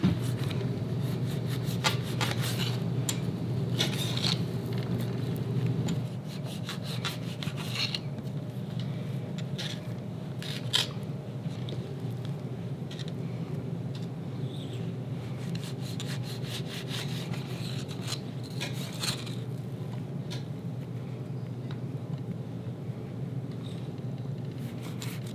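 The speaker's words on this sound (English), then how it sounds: "And then we're going to cut 1-inch slices." A knife saws steadily through rolled dough, cutting it into one-inch slices, giving a continuous close rubbing and scraping texture with repeated short strokes and a low background hum, and no voices.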